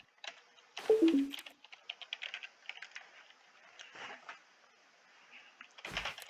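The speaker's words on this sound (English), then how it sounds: "Time to hit every key on my keyboard except for J." Keys on a computer keyboard are tapped in a quick, irregular run of soft clicks, fairly close and quiet, with a louder clunk near the start and another near the end.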